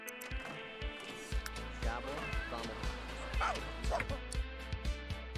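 A dog in The Sims 3 gives a few faint, yipping barks beneath game music with a steady low beat, while a voice talks over it.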